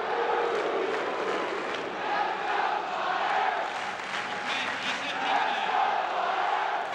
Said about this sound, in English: They're cheering with a vengeance.